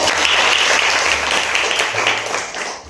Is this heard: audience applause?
yes